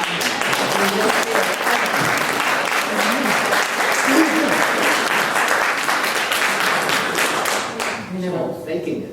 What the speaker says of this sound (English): Please give a big applause to Richard.